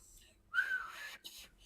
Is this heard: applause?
no